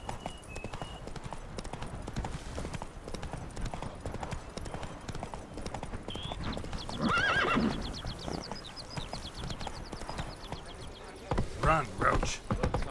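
Roach, the horse in The Witcher 3: Wild Hunt, galloping with steady clip-clop hoofbeats, a whinny near the middle, and background game sounds and voices throughout.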